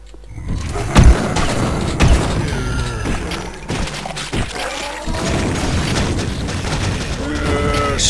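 Rocket launcher blasts and explosions in the video game Duke Nukem 3D: a couple of sharp booms among continuous gunfire and crashing effects, loud and close, with game noise filling the whole stretch.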